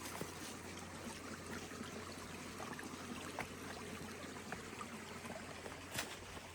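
Stream water running over a trail water crossing on the Appalachian Trail, a steady broadband trickle and rush with no speech, close and continuous throughout.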